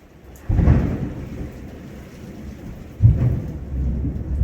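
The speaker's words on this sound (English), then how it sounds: "I keep losing power because there's a severe thunderstorm happening right now" Severe thunderstorm with two heavy rolls of thunder rumbling in low and loud over steady rainfall, the second crack starting abruptly near the end.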